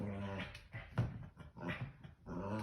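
A puppy whimpers and growls in short, close bursts, playful and agitated, with brief gaps between the yelps and whines.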